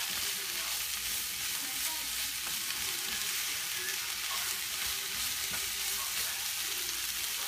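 Steak and vegetables sizzle steadily in a hot pan, a constant bright crackling hiss with occasional small pops and scraping, moderately loud and close, with no voices.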